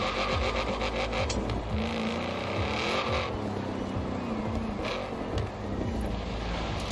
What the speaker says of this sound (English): Okay, it's going burnouts now.